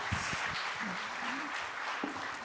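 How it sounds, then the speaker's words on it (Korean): Applause breaks out among a church congregation during a Sunday worship service, a broad wash of clapping that carries steadily throughout, with a few voices calling out over it. "와, 박수."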